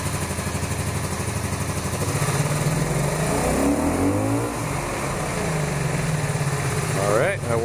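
A cafe racer motorcycle engine runs steadily while warming up, then rises and falls in pitch as the throttle is worked, loud and close throughout, with a short sharp rev near the end and a voice talking at times.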